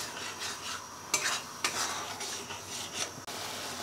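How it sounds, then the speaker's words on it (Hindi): Homemade amla hair oil stirred in a pan over a low flame, a low bubbling hiss broken by a few distinct scraping strokes of the spoon against the pan, no voices. "बीच बीच में हम चलाते भी रहेंगे।"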